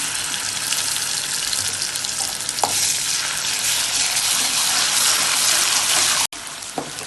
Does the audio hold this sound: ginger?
yes